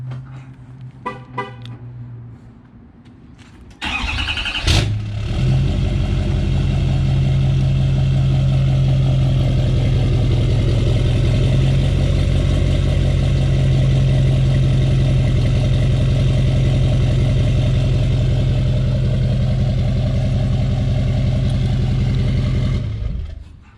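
A tuned GMC Denali pickup truck engine cranks and starts with a burst, then settles into a deep, steady, throaty idle that runs loud and close for nearly twenty seconds before cutting off.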